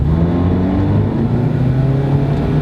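Nissan Cube accelerating, a steady loud engine drone with rising, whining harmonics heard from inside the car, continuous without a break for a few seconds.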